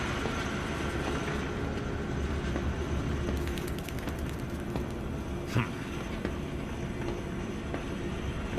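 Zoo train in the horror video game Zoochosis rumbling along steadily, a continuous low rolling drone with faint rail clatter and a brief squeal partway through, heard on its own without talk.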